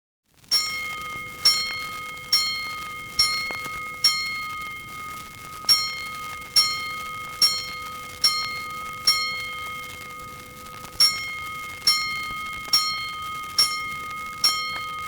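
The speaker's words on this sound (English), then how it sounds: "Five bells." A fire alarm bell strikes five times in regular, evenly spaced rings, each tone clear and lingering before the next, in two separate runs, in an old radio drama.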